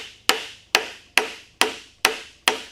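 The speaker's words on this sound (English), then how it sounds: "I'm just hammering on that overhang" Hammer blows on the overhanging end of a wooden breadboard end fitted to a tenoned panel: six sharp, evenly spaced knocks about half a second apart, close and fairly loud, with no talk.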